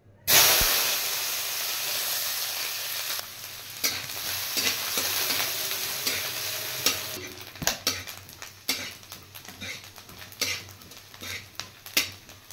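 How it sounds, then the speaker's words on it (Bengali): Chopped coconut fries in hot oil in a wok, a continuous close hiss and sizzle broken by repeated scraping and clinking stirring strokes, growing more frequent toward the end, with no voices. "নারকেলগুলো ভেজে নেব, তার জন্য একটু করে তেল দিলাম"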